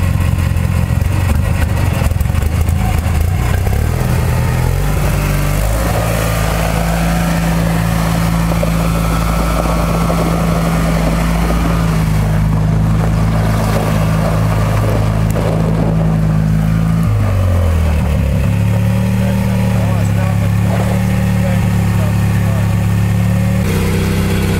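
A six-wheeled Action Max 2 amphibious ATV drives along with a loud, steady engine drone and shifting mechanical whine that dips and rises as it moves; a voice may be faintly present under the noise.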